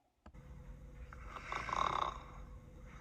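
A voice imitates a granny snoring during a children's story read aloud, giving one drawn-out, rasping snore that swells and then fades, close and fairly quiet.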